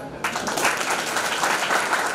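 An audience at a farewell programme applauds young members of parliament, a steady broadband wash of clapping that swells in after a brief quiet start and holds loud and dense throughout.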